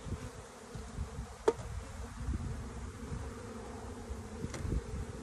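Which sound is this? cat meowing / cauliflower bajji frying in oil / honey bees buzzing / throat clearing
honey bees buzzing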